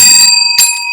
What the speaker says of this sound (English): So our friend Katie, Nurse Katie, gave us each bells.